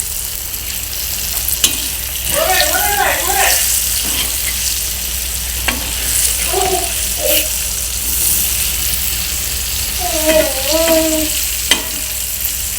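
Fish coated in semolina fries in a little oil in a pan over a medium flame, giving a steady close sizzle and crackle throughout with occasional louder spits.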